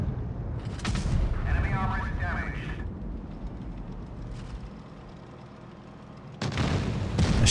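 Tank cannon shots in WoT Blitz from a T-55A, booming broadband blasts near the start and again near the end over a low rumbling battle background, with a voice talking in between.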